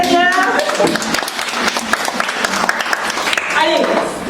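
Applause and clapping from a congregation acclaiming the Lord at a Christian women's gathering, a dense, fairly loud crowd sound with voices mixed in and rising again near the end.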